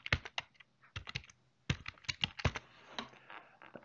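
A password being typed on a computer keyboard, close and crisp: quick bursts of key clicks separated by short pauses, with no talk.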